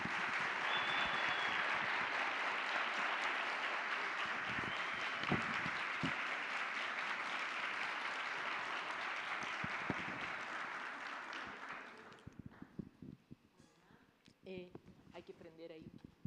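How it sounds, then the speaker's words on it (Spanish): An audience at a literary festival gives a writer a long, full round of applause that holds steady for about twelve seconds before dying away, followed by scattered sounds and a voice speaking. "Vou pedir uma salva de palmas para Pilar Quintana."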